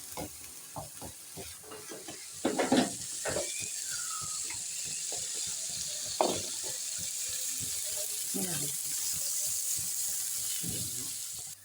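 Ketchup and chili garlic sauce being stirred into a vegetable filling for patties: soft, steady wet mixing and scraping over a constant hiss, with scattered clicks, no speech.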